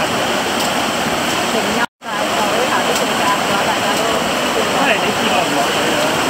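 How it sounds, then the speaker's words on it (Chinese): Small waterfall tucked behind dense forest in the Siu Om Hang and Tsiu Hang area, a steady broad rushing roar of falling water, continuous apart from one brief cut early on. "我见到密林后面有个瀑布仔啊"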